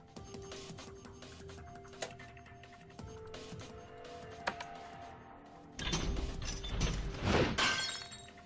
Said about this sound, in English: We broke the glass